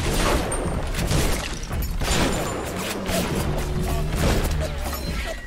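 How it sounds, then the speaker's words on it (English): Grenade launcher explosions in the video game BioShock come as a loud, dense barrage of overlapping blasts and crashes that runs without a break for several seconds, with no talking. "Oh, I forgot I had the grenade launcher."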